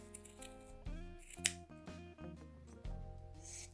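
Scissors trim a yarn pom-pom for a Halloween garland, giving a couple of short, crisp snips under louder background music.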